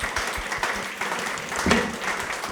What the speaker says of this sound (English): Huge applause for my guests.